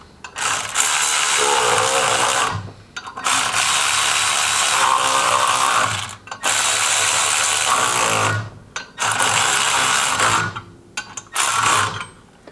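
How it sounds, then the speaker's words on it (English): A ratchet wrench clicks rapidly in repeated bursts while clutch bolts on a Can-Am Maverick... no—on an AA KRX S2 clutch kit are tightened one by one, close and loud, with brief pauses between runs. "We're going to go through and tighten each one individually."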